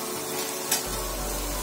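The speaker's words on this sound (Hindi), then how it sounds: "टमाटर पेस्ट को अच्छी तरह से भून लेंगे" Tomato paste and chole masala fry in a pan as a soft, steady sizzle, with a brief stir scrape partway through and a low hum underneath.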